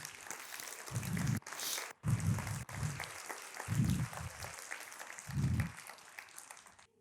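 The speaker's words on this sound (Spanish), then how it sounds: "Pueden aplaudir." A conference audience claps steadily for several seconds, broad dense applause with a few deep thumps mixed in, fairly close.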